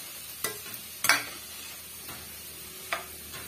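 Beetroot stir-fry is sautéed in a pan, with a few sharp spoon clicks against the pan over a soft, steady background hiss.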